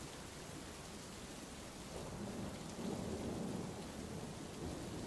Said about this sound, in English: The next time you're in bed and a thunderstorm rolls in